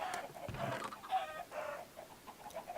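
Chicken clucking in a video game, a soft series of short clucks and warbles over a steady background hum, faint and fairly close, with no talk over it.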